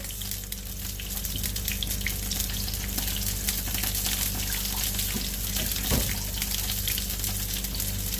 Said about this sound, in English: So I'm just going to go over and wash my hands.